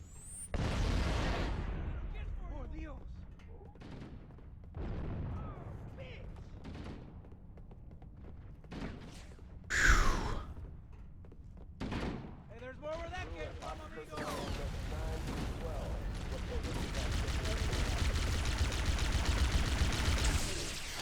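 Frag grenade explosions and gunfire in Halo: Combat Evolved, several booming blasts spread across the stretch with a loud burst midway, rattling weapon fire between them and a steady roar toward the end.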